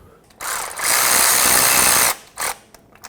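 A power tool whirs in a sustained burst of about two seconds while tightening starter bolts on a Ford Excursion, followed by a short second burst and faint ratcheting clicks at the end.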